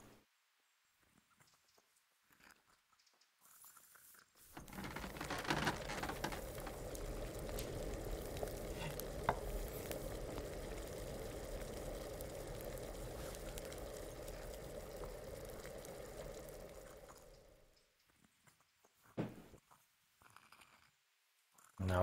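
A potion of sage bubbles and boils in an alchemy cauldron in the Kingdom Come video game: a steady, dense simmering wash that starts abruptly, holds evenly for about thirteen seconds, then stops, leaving near silence.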